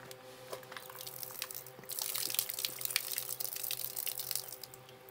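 Water trickles and splashes steadily into a rain gauge's inner measuring tube, a close, continuous pouring with brief drips, growing a little louder midway through.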